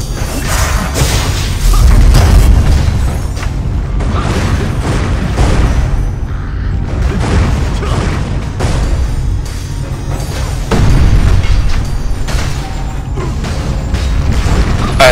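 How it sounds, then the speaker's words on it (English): Siege cannon in the ArcheAge castle defense battle firing huge cannonballs, with repeated heavy booms and crashing impacts over a dense, continuous roar of battle. "This thing is launching huge cannonballs."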